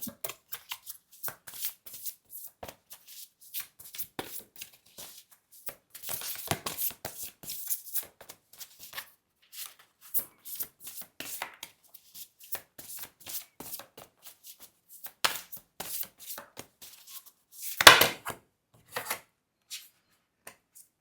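A rainbow oracle card deck being shuffled by hand, soft papery riffles and flicks in uneven bursts, quiet and close, with one louder snap near the end and no talk.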